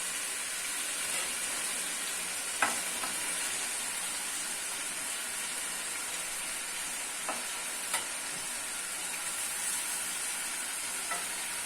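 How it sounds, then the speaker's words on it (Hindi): Chicken pieces sizzle loudly in fried masala in a karahi, giving a constant close hiss and crackle with a few faint clinks of a stirring utensil. No voices are heard. "अब इसमें डाल देंगे ये चिकन इस तरह से।"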